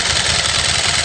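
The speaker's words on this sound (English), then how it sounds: "it's got a Ducati L-twin engine" Bimota motorcycle with an air-cooled Ducati 1100 L-twin engine idling close by, a steady, throbbing low rumble with an even pulsing beat and no voices.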